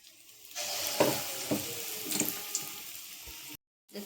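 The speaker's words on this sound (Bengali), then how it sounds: "এরকম করে বেসনের মধ্যে কোট করে সবগুলো ভেজে নেবো এরকম করে।" Raw banana fritters coated in gram flour sizzle in hot oil, a close, steady crackling with a few sharper bubbling bursts, then a sudden brief silence near the end.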